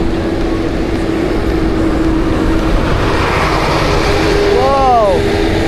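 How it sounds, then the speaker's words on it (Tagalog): A medium-size truck passes on the highway at night with a sustained, fairly loud engine and tire roar, heard from a bicycle; a brief voice exclaims near the end. "Medium truck. Medium size truck"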